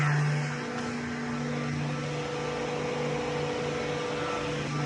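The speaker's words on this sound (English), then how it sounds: "because I'm hooked up to a Festool vacuum" A Festool HEPA dust extractor vacuum runs steadily with a constant whirring drone and an even mechanical hum, loud and unchanging throughout.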